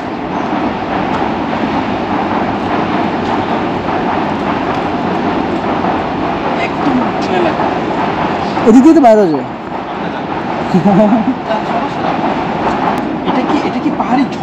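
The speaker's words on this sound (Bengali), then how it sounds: "ট্রেন যাচ্ছে" A train runs through the deep forest of Lawachara National Park, its rumble and rattling wheels steady and fairly near, with a sharp sweeping screech partway through and people talking over it.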